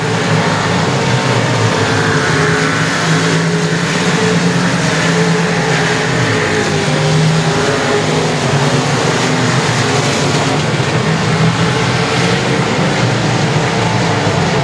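Race cars at Sabine Speedway roar steadily as they run at speed, a loud, dense engine drone with faint swells as cars pass, continuing without a break and with no voices.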